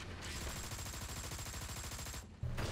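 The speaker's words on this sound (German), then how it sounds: "Schießt auch ein Maschinengewehr auf mich." Rapid machine gun fire rattles in a steady, unbroken burst for over two seconds in War Thunder tank combat, fairly close, then cuts off abruptly.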